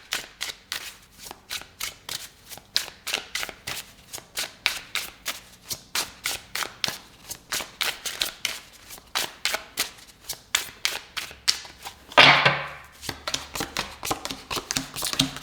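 Tarot cards are shuffled by hand in a quick, even run of crisp, close flicks and taps, many dozens in a row, with one brief fuller riffle partway through and no talking.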